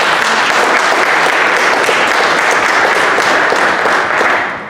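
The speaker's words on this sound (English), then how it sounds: "Get a round of applause for them." A roomful of attendees at a business program launch event applauds the organizers, steady loud clapping throughout that holds without talk and then tapers off at the end.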